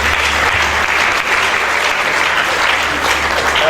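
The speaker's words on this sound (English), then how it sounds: "Another round of applause." Loud, dense applause from the audience at a university geography alumni lecture and award ceremony, close and steady clapping with no break, heard alone without any talking.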